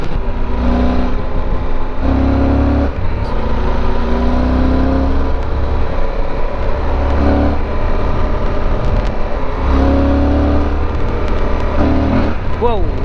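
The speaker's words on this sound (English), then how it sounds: "The FJR's got a great 4-cylinder engine that just sounds fantastic" A Yamaha FJR1300 motorcycle's four-cylinder engine revs up and down repeatedly, its pitch climbing and falling in several close, loud surges over constant rumble and wind noise.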